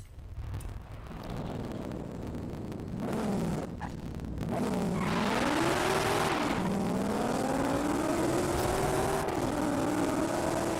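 Race car engine in Forza Horizon 5 revving up and accelerating hard, its pitch climbing and shifting through gears, loud and continuous with some wind noise, no talking.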